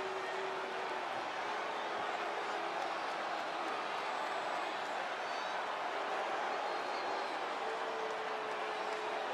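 A roaring arena crowd from the wrestling video game WWE 2K20 fills a steel cage match between Ronda Rousey and Tamina, a dense, steady wash of cheering and noise with no breaks.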